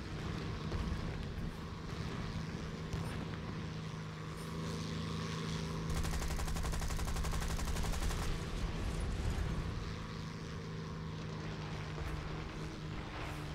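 Rapid aircraft machine-gun fire from a P-36G Hawk in War Thunder, dense continuous bursts over a constant engine drone, growing louder and harsher for a couple of seconds in the middle before easing back.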